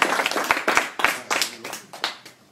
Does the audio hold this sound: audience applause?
yes